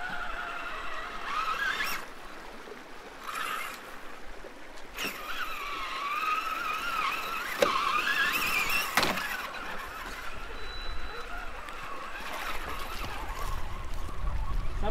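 Brushless Traxxas Summit RC truck with MIP driveshafts crawling through water in first gear: a steady whining motor and drivetrain squeal with splashing and sharp clicks, close and fairly loud throughout.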